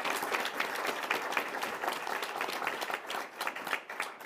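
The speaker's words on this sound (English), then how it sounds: "Will you give all of our village a round of applause for making this happen?" Sustained applause from an audience at a city supportive housing announcement in Denver, a dense crowd clapping that carries on steadily for several seconds at moderate distance before thinning slightly toward the end.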